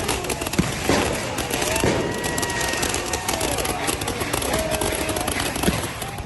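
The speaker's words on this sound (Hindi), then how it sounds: "प्रदर्शनकारियों ने पुलिस की तरफ आतिशबाजी कर दी" Crackling fireworks fired by protesters at police during a street clash in Georgia burst in rapid, irregular pops amid a noisy outdoor crowd, with a few sharper bangs standing out from the constant din.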